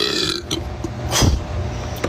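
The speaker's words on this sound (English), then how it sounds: "Try to burp." A loud, close burp bursts out in the middle of the clip, short and guttural, with casual background noise around it.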